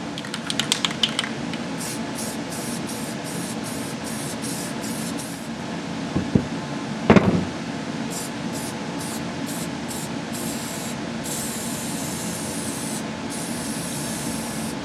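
Spray paint hissing onto a homemade carpet seam weight in a steady, close aerosol stream, with repeated short rhythmic pulses and a couple of brief knocks midway.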